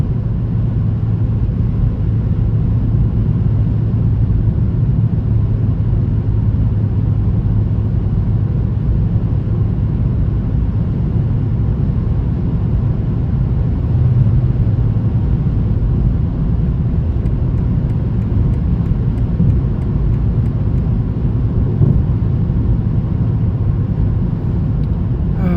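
A 2023 BMW M340i in sport mode cruising at night, its engine and road noise forming a steady low rumble that holds without pause and without talk.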